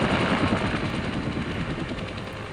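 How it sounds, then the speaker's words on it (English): A Huey helicopter's rotor and engine make a dense, steady rumble with a faint rapid thumping running through it, loud and continuous for a brief stretch with no voices. "the unmistakable sound of a Huey triggers memories for those who serve"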